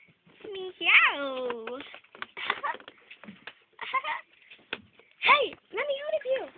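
A voice imitates a cat's meow, giving several rising and falling meow-like calls in short bursts, mixed with other playful vocal sounds and talking.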